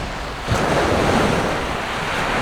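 Sea waves wash steadily onto a fishing beach while strong wind buffets the microphone, a loud, constant roar of surf with a brief gust surge partway through.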